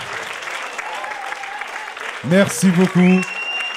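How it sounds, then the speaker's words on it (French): Audience at the Tremplin des Voix 2015 singing contest applauds in a steady wash of clapping, which is then cut into by someone speaking briefly over it. "On l'applaudit encore bien fort, s'il vous plaît."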